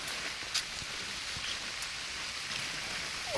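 Rain falls steadily on a forest path, a soft even patter of drops with a few brighter taps, fairly faint and with no voices.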